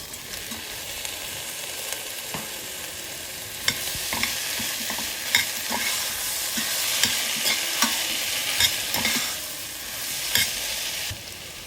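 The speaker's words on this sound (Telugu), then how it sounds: "అల్లం వెల్లుల్లి పేస్ట్ వేగిన తర్వాత ఇందులో ఏంటంటే ఒక 2 మీడియం సైజ్ టొమాటోస్ చాప్ చేసుకున్నాను." Ginger garlic paste and chopped tomatoes frying in a pan, a loud continuous hiss of sizzling with scattered sharp stirring scrapes and clicks, close up and with no talking.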